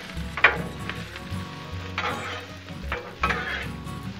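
Potatoes sizzle and fry on a Blackstone griddle while a metal spatula stirs them, with several sharp scraping clatters against the hot steel over a steady crackle.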